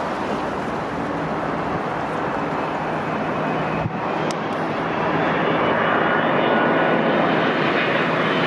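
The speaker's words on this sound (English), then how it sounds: "Next up is United 55, flown by a 767-300ER and arriving from Paris." A United Boeing 767-300ER arriving at Newark from Paris, its jet engines roaring loudly and steadily, with a brief dip partway through before the rumble grows fuller and louder, no voices heard.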